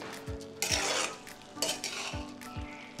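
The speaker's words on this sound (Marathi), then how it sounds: "आता ह्याच्यात आपण लिंबू पिळले, पुन्हा हे परतून घेऊ." Spinach bhaji with besan is stir-fried in a kadhai after lemon juice is squeezed in. A spatula scrapes and stirs in a steady rhythm over a low, constant sizzle, close up with no voices.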